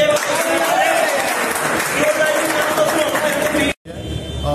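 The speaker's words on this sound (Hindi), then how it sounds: "ताली बजा दो।" Applause from the audience at the Mr and Miss Global India Asia 2018 pageant, a dense wash of clapping that runs for several seconds before cutting off abruptly, with voices mixed in.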